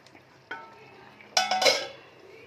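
A spoon stirs mutton ghugni in a metal pan, making a soft scrape followed by a few sharp clinks and rattles against the pan, close and fairly quiet.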